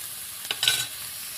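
Onions frying in a pan sizzle quietly while a utensil scrapes and stirs them a few times, close and soft.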